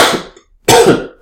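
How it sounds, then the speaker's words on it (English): A person getting over a cold coughs and clears their throat in two harsh, loud bursts separated by a brief pause, close up and alone. "I'm about to cough."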